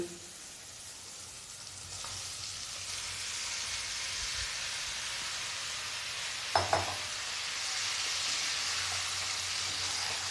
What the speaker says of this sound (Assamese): ইয়াত মই বইল কৰা আলু আৰু কঁঠালখিনি দি দিম